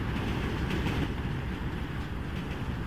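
A train in Grand Theft Auto V rolls along the rails with a steady, loud rumble and faint rhythmic rattling of cars, continuous throughout with no voices.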